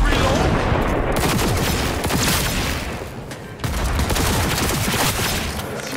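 Sustained, loud gunfire from Cyberpunk 2077 fills the whole stretch, dense rapid shots with booming impacts and a brief dip partway through before the barrage resumes.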